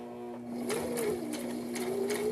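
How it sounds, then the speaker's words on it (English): A sewing machine stitches down the edge of a fabric face mask, its motor running in a steady, close whir with no one talking. "And you're going to sew down the edge here to get to this corner."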